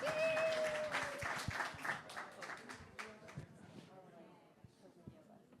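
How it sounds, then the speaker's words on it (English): Round of applause for the panelists at the official opening of an ice and sinking-cities exhibition, dense clapping that starts loud and thins out over a few seconds, with a tone and voices mixed in. "Can we give them a round of applause?"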